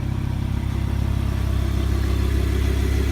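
A V10 supercar engine, from an Audi R8 V10 Plus or Lamborghini Huracan LP610-4, running at a steady idle with a deep, loud, even rumble close by and no voices.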